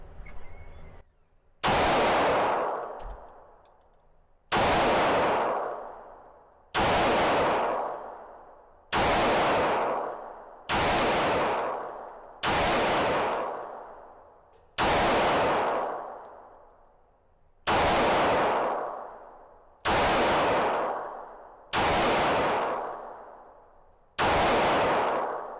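Eleven sharp Glock 45 Gen 5 pistol shots fired at a paper target on a range, each loud crack with a ringing decay, spaced roughly two seconds apart in a steady, deliberate rhythm.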